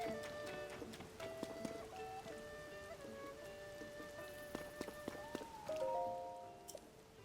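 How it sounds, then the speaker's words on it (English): Rain pattering in The Legend of Zelda: Tears of the Kingdom, a soft, steady patter of drops under a faint musical score with scattered plucked tones. "even the rain isn't enough to slow you down"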